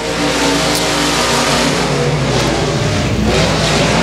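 A race car roars loudly down the back straightaway at Boothill Speedway on the final lap, its engine a dense, steady, full-throttle drone that holds the whole time.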